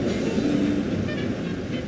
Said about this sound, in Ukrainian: трамвайчик, пусти нас